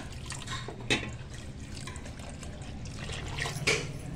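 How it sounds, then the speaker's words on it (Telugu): Water poured into a pan of fish curry, a close liquid splashing and trickling with a few brief louder pours over a steady background. "ఇట్లా వాటర్ ఎన్ని పడితే నేను చూసుకొని వేసుకుంటున్నా"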